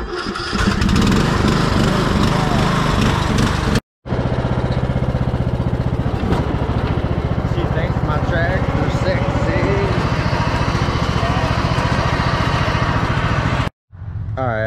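A riding lawn mower, parked with the brake set and blades off, starts up and runs at a steady, loud, close drone, with a couple of brief cuts in the sound.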